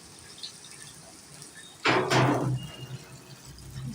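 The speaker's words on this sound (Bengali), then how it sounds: "কিছুটা পানি দিয়ে দিলাম" Water poured into a cooking pot while making mustard hilsa curry, a short splashing pour of under a second standing out near and clear against a quiet kitchen background.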